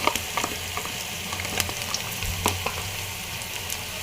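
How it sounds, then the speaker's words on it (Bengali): Onion with green chillies frying in a pan produces a constant close sizzle and crackle, with scattered small clicks of stirring; no voices. "পেঁয়াজটাকে আমি একটু ভেজে নেব"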